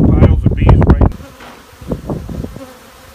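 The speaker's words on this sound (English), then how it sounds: "We're going to knock down these two piles of bees right now." A swarm of bees buzzes around a wine barrel, a dense loud drone for the first second that drops to a quieter, steady hum with scattered buzzing passes close by.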